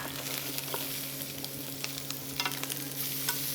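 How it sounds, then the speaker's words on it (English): Pork belly sizzles and pops in a pan, a continuous close frying hiss dotted with sharp spitting crackles and a low steady hum beneath, no voices. "So you can hear that belly pork popping now."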